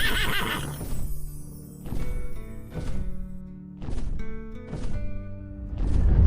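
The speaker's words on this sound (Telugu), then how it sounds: "అక్కడ వెలుగుతో తయారైన రెక్కల గుర్రం నిలబడి ఉంది." A horse whinnies loudly as a storybook sound effect for a glowing winged horse standing by a forest lake, followed by a series of spaced, hollow hoof thumps at a steady rhythm, close and clear with no talk.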